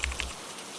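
Rain falling steadily with soft, dense patter and a few brighter drop ticks near the start, heard alone at moderate level with no voices.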